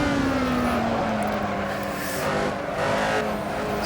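A Lotus 72D race car engine in a racing video game, a loud steady high-pitched drone with a pitch sliding slowly downward as it holds through a slow corner, no talk.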